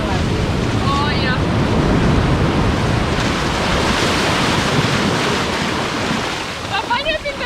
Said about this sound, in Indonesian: kayaknya ombaknya besar banget